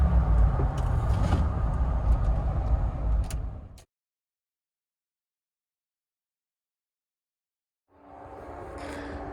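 A 1997 Land Rover Discovery drives with a steady, loud engine and road rumble for several seconds, cuts to near silence, then the vehicle noise resumes at the end.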